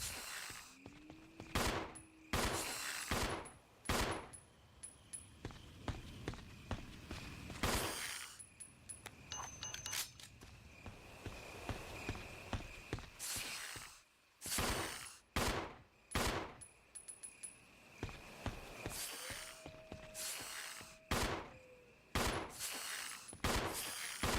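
Gunfire in Resident Evil HD Remaster, a long run of loud, sharp shots fired in quick uneven bursts with brief pauses, with faint tones and clinks between them.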